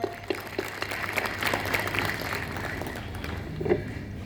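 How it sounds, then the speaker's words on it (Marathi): An audience claps for a quiz winner, a steady patter of applause of moderate loudness that continues throughout. "टाळ्या वाजवूयात आपण"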